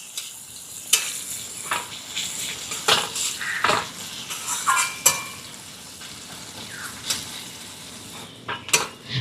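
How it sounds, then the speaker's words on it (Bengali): A large chopped onion fries in hot oil in a pan, giving a steady close sizzle with repeated clinks and scrapes of a spatula stirring against the metal. "এবারে দিয়ে দিচ্ছি একটা বড় সাইজের পেঁয়াজ, একটু ছোট ছোট করে কুচি করে নিয়েছি। পেঁয়াজটাকে ভালোভাবে ভেজে নেব।"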